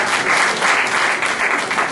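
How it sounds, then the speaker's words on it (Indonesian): Applause from a church congregation during a service: a thick, continuous wash of many hands clapping, loud and sustained from start to finish. "Berikan tepuk tangan, saudara."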